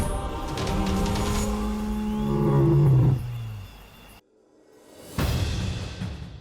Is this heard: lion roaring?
yes